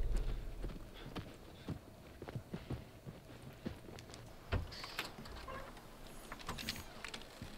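Horse hooves in the video game The Last of Us Part 1, a steady, fairly quiet clip-clop of a walking horse mixed with scattered knocks and soft background ambience.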